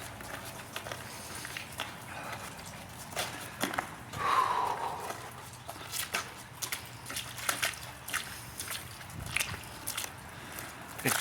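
Footsteps crunching across a frozen, snow-covered river with snowmobile tracks nearby, a steady run of close, crisp steps repeating at an irregular walking pace.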